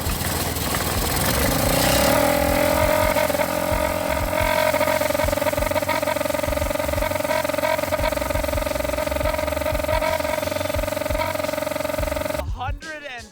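A custom-built go kart engine with a trumpet mounted on it revs hard and holds a loud, droning, steady tone close by, then cuts off abruptly near the end.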